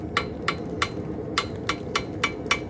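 Blacksmith hammer striking soft copper on a clean anvil, eight light, evenly spaced metallic taps ringing out over a steady background hiss, fairly close and moderately loud.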